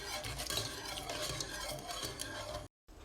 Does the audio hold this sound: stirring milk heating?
yes